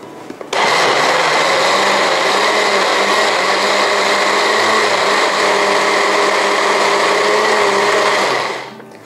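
An electric blender whirs at high speed through sugar and coconut milk for a Thai dessert filling, starting abruptly, running loud and steady for about eight seconds, then winding down.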